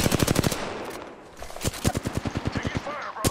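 Rapid gunfire crackles in a shooter video game, with bursts of sharp automatic shots, a short lull, then another quick string of reports and a final loud crack.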